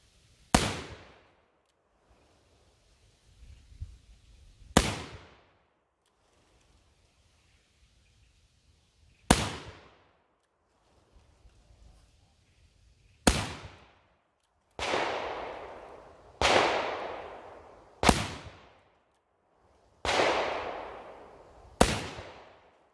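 Black powder pistols fired outdoors, about ten sharp, loud reports spaced irregularly a few seconds apart, each followed by a long rolling echo that decays slowly, with quiet pauses between the early shots.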